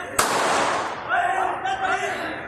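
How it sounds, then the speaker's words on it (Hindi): A single sharp gunshot cracks out as a police officer fires in news footage, followed by a ringing decay and background voices talking. "एक पुलिस वाले ने असलहा लोड करके बंदूक सीधी की और गोलियां चलाई"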